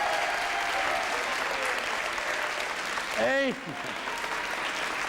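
Dense, steady audience applause at a live comedy show, continuous and fairly even throughout, with a voice briefly shouting over it near the end.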